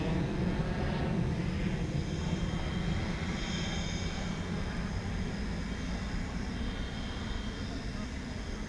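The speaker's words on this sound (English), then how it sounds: "this is Flight 1310 going to Ontario, California." A passenger airliner, Flight 1310 bound for Ontario, California, rumbles at DFW Airport in the evening, its distant engine roar a steady broad drone that slowly eases off.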